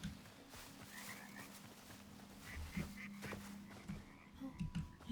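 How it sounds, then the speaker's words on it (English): Frogs croak in the Hytale video game: low, repeated throaty croaks scattered over a faint ambient background, some closer and louder toward the end. "And there's some frogs."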